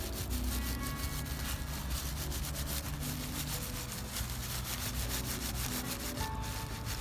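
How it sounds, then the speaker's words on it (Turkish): A knife scrapes and cuts along the bone of a bonito at a campfire cooking setup, giving a steady, close rasping and rubbing texture that runs continuously for several seconds with no talking. "Hemen kemiğin biraz üstüne sıyırarak kesiyorum."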